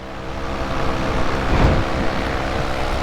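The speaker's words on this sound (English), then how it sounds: "I suggest definitely the Polini Thor 202. It's a great engine." A Polini Thor 202 paramotor engine in flight, a loud, steady propeller drone close to the microphone that swells briefly in the middle, with no voices.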